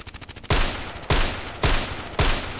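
Four heavy sniper rifle shots from the DT SRS in the Contract Wars shooter game, fired at a steady interval of about half a second, each a sharp loud crack with a short rumbling tail.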